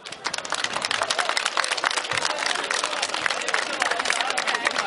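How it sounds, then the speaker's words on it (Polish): Dense, loud applause and clapping from an outdoor harvest festival crowd for a village brass band, continuous rapid claps with crowd murmur throughout. "Wielkie przeogromne brawa."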